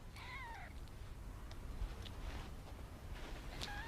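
Kittens meow in several short, high, wavering calls, near but fairly quiet, at the start and again at the end, with faint rustling between.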